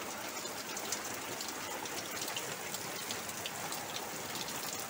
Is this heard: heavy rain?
yes